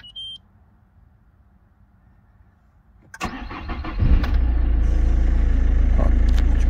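A 1.6L HDi diesel car engine starts on the first try after a short beep and quiet pause: a brief crank, then it catches and settles into a loud, steady idle.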